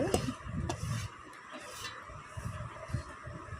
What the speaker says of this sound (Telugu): ఉల్లిపాయలు కూడా వేసుకొని బాగా కలుపుకోవాలి